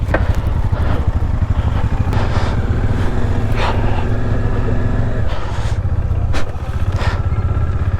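Off-road motorcycle engine warming up outdoors in the Chanshal hills near Shimla, a loud, close, continuous idle with a pulsing throb and small revs; no talking.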